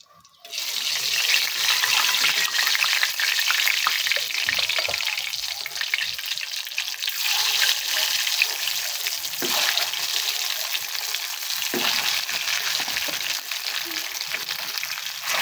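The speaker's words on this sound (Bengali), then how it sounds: "এখানে একটু লবণ আর একটু হলুদ দিয়ে আমি ডিমটা ভেজে নেব।" Egg seasoned with salt and turmeric frying in a pan, a loud continuous sizzle starting after a brief quiet moment and crackling steadily with occasional louder pops, no speech.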